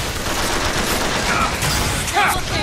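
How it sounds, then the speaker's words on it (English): Rapid sustained gunfire in the Bioshock Infinite video game, a dense continuous rattle of shots kept loud and close the whole time, with no voices over it. "Stop shooting me."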